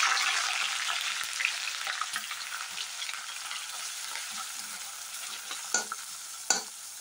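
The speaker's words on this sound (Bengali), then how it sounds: "এবার এগুলোকে আমি হালকা তেলে ভেজে নেব।" Strips of dried fish fry lightly in a little oil, giving a continuous bright sizzle that slowly eases, with a few soft stirring scrapes and clinks close by.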